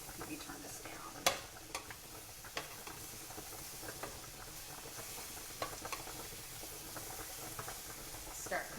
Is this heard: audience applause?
no